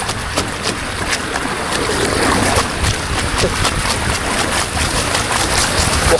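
Water splashes and sprays into an amusement park ride vehicle, a continuous rushing hiss with scattered sharp splash bursts, loud and close, with no clear talk.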